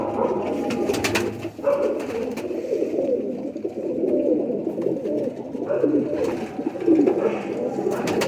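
An old-breed pigeon with a distinctive short face and helmet-like skull coos steadily up close, low murmuring calls repeating over a continuous background of other pigeons.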